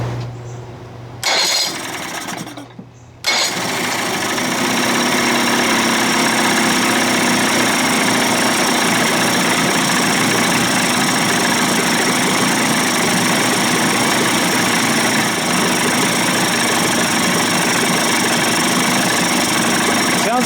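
A Johnson Evinrude 25 to 35 hp outboard motor cranks a couple of times, catches, and then runs loud and steady with a rough, buzzing, slightly labored note.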